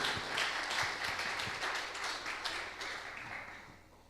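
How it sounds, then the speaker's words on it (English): An audience applauds a speaker at a Startup Grind startup talk in Bratislava, a steady round of clapping that holds for a few seconds and then gradually thins, heard from the room at moderate distance. "please round of applause for Michal"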